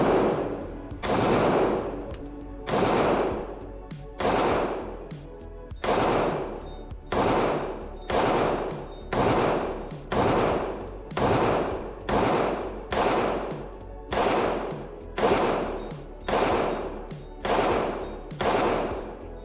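KM Tactical Glock pistol firing at an outdoor range, a steady run of loud, sharp gunshots spaced roughly a second apart, each cracking hard and ringing out briefly with no talk between them.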